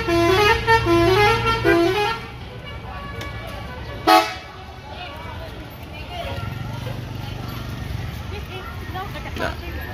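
Tuan Muda bus pulling out of the Kalianget tourist car park sounds a melodic musical horn, then a sharp toot, with engine rumble and people talking around it.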